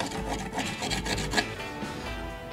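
A burnishing stone drags across a too-dry clay pottery surface, giving a steady close scratchy rasp with continuous rubbing strokes, quiet and alone.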